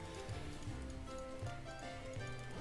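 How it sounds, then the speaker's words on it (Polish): Galloping hooves from the League of Legends video game, a steady rapid clip-clop rhythm running throughout over dense game music and effects. "Myślałem, że to Hekarim biegnie"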